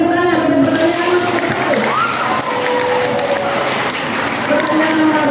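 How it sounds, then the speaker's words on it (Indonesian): Audience applause at a junior high school student council debate for chair and vice-chair candidates, a steady wash of clapping from a crowd in a hall with faint voices over it. "Kita berikan tepuk tangan untuk pertanyaan nomor"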